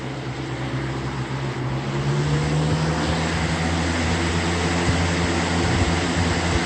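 A 2016 Lasko 3733 electric fan runs with a steady broadband whoosh and a low motor hum, swelling slightly louder partway through, close by and with no talking.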